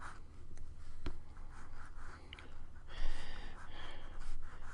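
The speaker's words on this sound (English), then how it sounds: "take each panel one at a time and do a little bit more detailed sketch" Pencil scratches and strokes across paper while comic panel layouts are loosely sketched, steady soft scraping with a few sharper taps and light breathing nearby.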